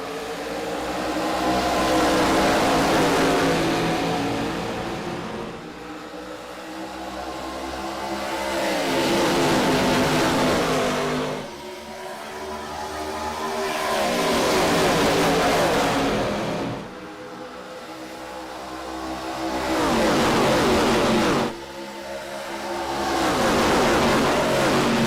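Simulated race cars in the iRacing game roaring away from a green flag start at Atlanta Motor Speedway, loud engine drones that swell and fade in repeating waves over about twenty-five seconds, with no talking.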